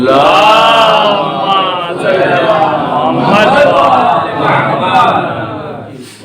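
A large gathering of mourners at a Shia marsiya recitation majlis in Akbarpur raises loud collective voices in chanted slogans, a dense sustained roar of many people calling out together, close and continuous throughout.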